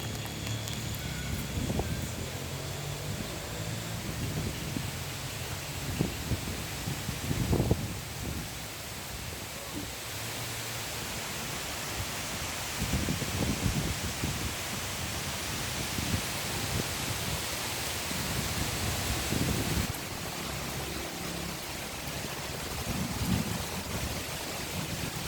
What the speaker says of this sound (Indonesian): Sekali anginnya kencang sekali.